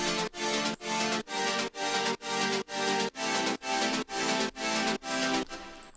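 Progressive house chords made in FL Studio pulse in eleven even, sidechain-ducked stabs, each one a dense, bright synth chord. They are loud and steady, play without any voice and tail off at the end.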